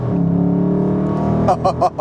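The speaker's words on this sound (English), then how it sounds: "Let's hear what this engine sounds like at full tilt." A 2020 Dodge Charger Scat Pack Widebody V8 at full throttle, a loud, deep, steady engine drone building up, then several sharp rhythmic bursts near the end, close and prominent.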